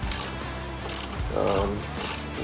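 Ratchet wrench loosening 10mm bolts on a Yamaha TTR250 bash plate, a few quick clicking bursts of the pawl in a close, steady rhythm, with a fainter thud as a bolt comes loose.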